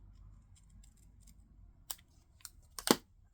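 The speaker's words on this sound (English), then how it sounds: "Just fussy cut that right off." Scissors snip through small pieces of paper in a few sharp, close cuts near the end, after a quiet stretch, with no talking.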